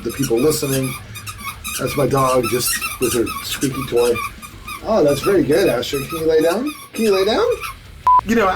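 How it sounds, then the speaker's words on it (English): A pet dog named Asher works her squeaky toy, giving repeated short, high squeaks, some sharp and tonal near the end, scattered under a man's close, continuous speech directed at the dog. "That's my dog, just with her squeaky toy."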